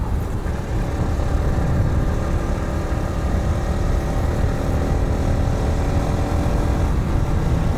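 A motorcycle riding along an empty morning road, its engine a steady, loud, close drone with constant wind rumble and no other traffic.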